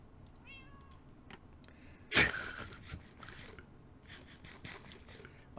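A cat meows in a video game, a short rising cry near the start with a sharp bright burst a couple of seconds in, over steady background game sound and no clear talk.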